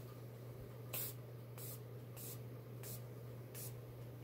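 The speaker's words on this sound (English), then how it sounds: "Spray myself with my setting spray," Makeup setting spray misted onto a face in five quick short bursts, evenly spaced and faint, over a quiet room hum.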